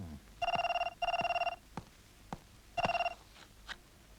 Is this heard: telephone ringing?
yes